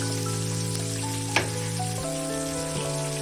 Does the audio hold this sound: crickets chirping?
no